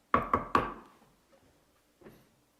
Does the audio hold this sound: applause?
no